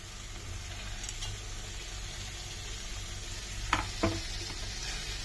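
Sandwich stuffing being stirred in a pan sizzles steadily in a soft, continuous fry, with a couple of sharp utensil clinks against the pan near the end and no talk.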